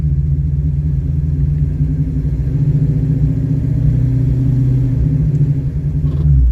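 A manual transmission car pulls away in first gear, its engine giving a steady low rumble up close that rises slightly in pitch as it moves off, with no talk heard.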